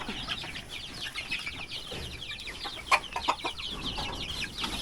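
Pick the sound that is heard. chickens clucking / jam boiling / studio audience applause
chickens clucking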